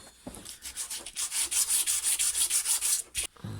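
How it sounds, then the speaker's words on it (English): Fine 400 to 600 grit wet and dry sandpaper rubs lightly over the blade of a Stihl HLA 56 hedge trimmer in quick, even back-and-forth strokes that rise to a steady, close rasping rhythm before stopping. "just a light little sand, just with some fine wet and dry, 400 grit, 600 grit"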